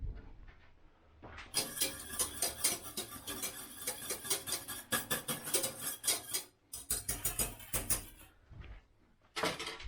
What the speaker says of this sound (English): I'll give it a little whisk.